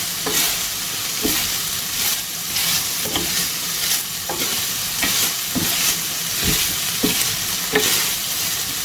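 Fry gosht, mutton cooked on a tawa with crushed red chilli, sizzles steadily while a spatula scrapes and stirs in regular strokes about once a second, close and clear, without speech.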